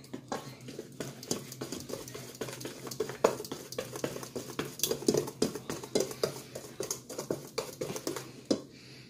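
Steady, close stirring of brownie batter in a bowl, with a utensil clinking and scraping against the sides in a quick uneven rhythm, while family members talk over it.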